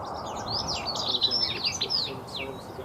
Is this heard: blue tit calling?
yes